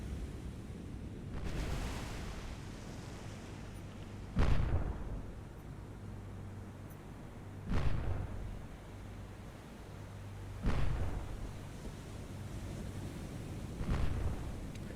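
Naval gunfire in a Guadalcanal battle video game, deep booming salvos at a distance of about 2.5 kilometers, repeating every three seconds or so over a rumbling sea-like background.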